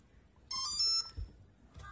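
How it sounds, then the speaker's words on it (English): A short electronic beep from a servo tester calibrating a brushless motor speed controller sounds for about half a second, followed by a fainter second tone moments later, against near silence. "you can hear a beep coming from the servo tester"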